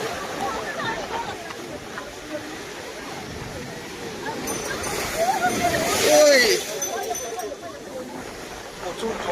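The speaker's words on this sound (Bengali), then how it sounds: "জোয়ার মারছে রে ভাই, প্রচুর জোয়ার" Strong tidal water surges and splashes continuously, swelling louder around the middle before settling, with voices chattering underneath throughout.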